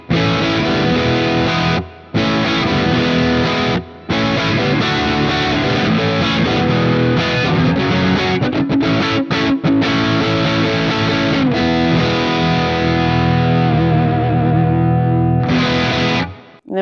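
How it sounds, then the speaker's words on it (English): Overdriven electric guitar on a new offset-body model, played through the neck pickup: loud, thick distorted chords and riffs that ring almost continuously, with two brief gaps early on and a final strummed burst before it stops. "We're going to start with the overdriven sounds, and then we're going to hear the clean ones once again, starting in the neck position."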